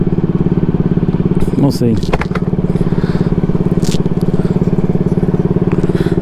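A Honda Ruckus scooter engine idles loud and close with a steady rapid putter, scraping and crackling noises briefly over it while someone speaks a few words.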